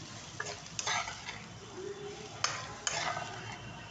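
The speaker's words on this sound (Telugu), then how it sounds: "ఇది ఒక్క నిమిషం పాటు లైట్గా ఫ్రై అయితే సరిపోతుంది" Shredded cabbage lightly frying in a pan for egg fried rice, a soft continuous sizzle broken by several sharp scrapes and clatters of a spatula stirring against the pan.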